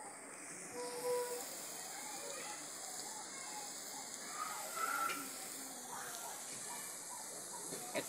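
Jackfruit fritters fry in oil in a wok with a continuous hissing sizzle like rain on a surface, steady and fairly soft throughout, with no speech.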